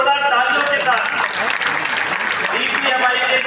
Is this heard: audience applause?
yes